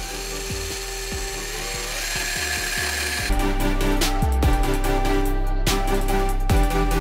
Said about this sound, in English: get a 5/64 drill bit. We're going to drill the holes.